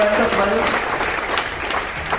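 Audience applause at a wellness company training session in Ghatkopar West, Mumbai, a dense steady clapping that fills the whole moment at full volume, with a voice briefly audible at the start.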